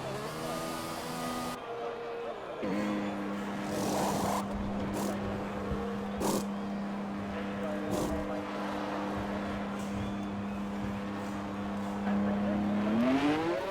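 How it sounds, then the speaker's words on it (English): Racing cars in a racing video game, engines droning close and steady with a long sustained tone that drops and later climbs again as the cars pass and shift, while commentators talk over the top. "the safety car is already driving down the pit lane to come out"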